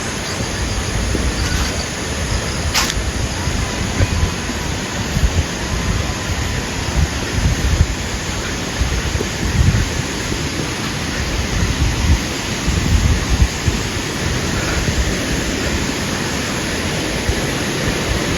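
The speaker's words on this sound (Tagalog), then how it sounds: "Narinig niyo yung ilog." A river where people bathe rushes loudly and without pause, a full, steady roar of flowing water close by.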